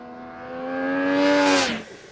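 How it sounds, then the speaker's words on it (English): A 2018 Triumph Speed Triple RS motorcycle engine revs up close and loud, its pitch climbing steadily for over a second before the throttle snaps shut and the note drops away. "The bike loves to rev,"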